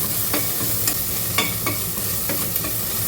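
Fenugreek leaves are stir-fried in a pan for horse gram pulao, with a steady sizzle of oil under repeated scraping strokes of a spatula.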